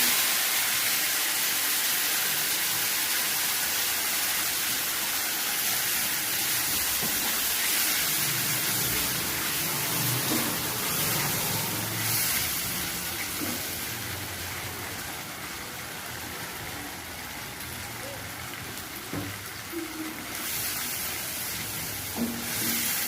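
Spice paste hisses and sizzles steadily in a hot frying pan while making chilli potato, a broad continuous frying noise heard up close with no voices.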